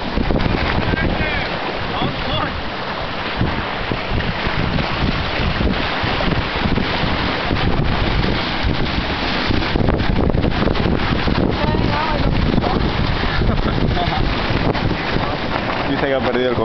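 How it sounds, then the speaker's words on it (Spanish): Constant rushing wind and sloshing sea water aboard a capsized sailboat, loud and unbroken, with wind buffeting the microphone and voices talking over it. "Aquí estamos en el barco de vela."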